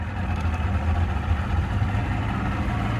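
The engine of a 1988 Wellcraft V20 open center console boat idles just after starting, a close, steady low chugging rumble that holds evenly with no talking.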